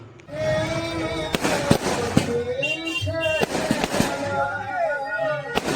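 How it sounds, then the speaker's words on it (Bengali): Firecrackers burst at a Kali Puja celebration in Munshirhat, giving sharp, loud cracks at irregular moments while a crowd talks and calls out continuously nearby. "আর এখন বাজি ফাটানো চালু হয়ে গেছে।"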